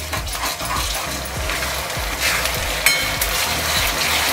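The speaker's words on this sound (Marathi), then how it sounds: "लसूण परतून घेतले तेलामध्ये, कांद्यामध्ये" Ginger, garlic, green chili and coriander paste sautéing with onions in hot oil for prawn masala: a steady close sizzle with repeated scraping stir strokes, no voices.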